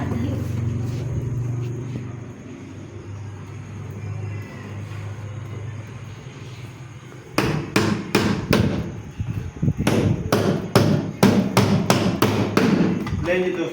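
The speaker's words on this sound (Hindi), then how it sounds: "अब हम यहाँ पे इसको मारेंगे कील।" Nails are hammered into a scrap-wood chick brooder with a hammer, giving a quick run of loud, sharp, close strikes in irregular bursts, after several seconds of quieter background noise.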